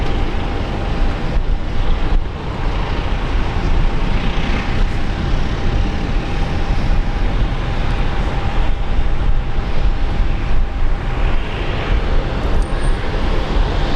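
Fokker airliner spooling up and rolling down runway 19 left at Brisbane International Airport, a loud, steady jet engine roar with wind buffeting, sustained throughout with no talk.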